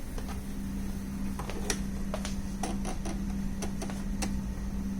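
A bernette b05 sewing machine stitching at fast speed: a steady mechanical hum with a rapid, irregular run of sharp ticking clicks, close and moderately loud.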